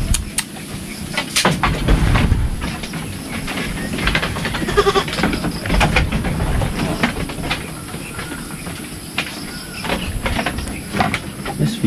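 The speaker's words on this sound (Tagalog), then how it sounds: "Ang kambing natin." Goats bleating on a farm pen where pregnant does and kids are kept, calls rising now and then through a busy, steady background of rustling and livestock noise, with no talk.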